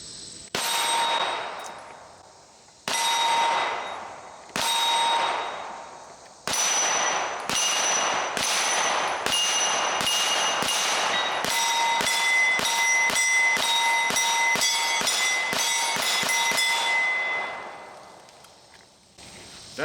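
Repeated shots from a Canik TTI Combat pistol ringing off steel targets at about 12 yards, loud sharp cracks each followed by a metallic clang, starting as spaced single shots and quickening into a fast string before fading.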